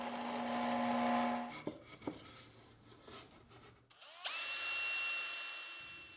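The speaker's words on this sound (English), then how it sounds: "I'll measure and mark to drill pilot holes at the drill press" A drill press boring pilot holes into cherry wood for a drawer; the motor whine starts, the bit rubs and bites into the wood, then the motor spins up again with a rising tone, close and steady.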